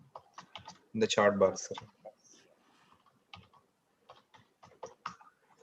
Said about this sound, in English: I am typing my mail ID in